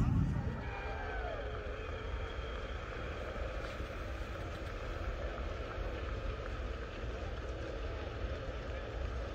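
An IronDog racing snowmobile comes in at the Expedition class start in Big Lake, Alaska, its engine drone rising and then holding steady and fairly distant, with people talking over it.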